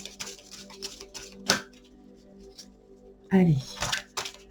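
Tarot cards are shuffled and drawn with quick, dry papery flicks and snaps, including a sharper burst near the end, while someone speaks over them.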